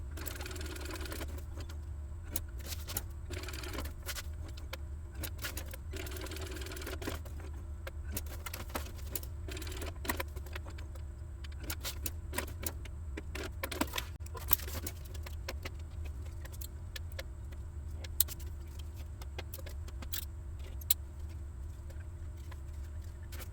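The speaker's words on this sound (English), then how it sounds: "I'm going to sew that down first." A sewing machine stitches down a tag on a tote bag. Its motor runs in short, uneven bursts with rapid needle patter and soft clicks, close and moderately quiet, and no one talks.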